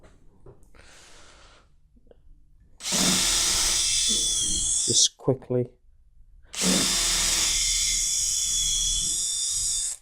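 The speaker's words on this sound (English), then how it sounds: "just a little bit of drilling, not too much. Remember, it's just to stop the wood from splitting." A power drill bores a pilot hole into the wooden leg of a sloping beehive stand. It comes in two loud, steady bursts of whirring, separated by a pause, with a brief spoken phrase before the first.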